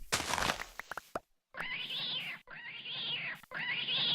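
Cat in Minecraft meowing three times, evenly spaced, bright and close, after a few short clicks and a brief pause.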